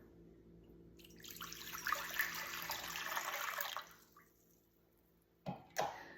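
Warm water is poured from a tap into a container while making bread dough, a close, bubbling splash lasting a few seconds. Then a short pause follows, and two brief clinks.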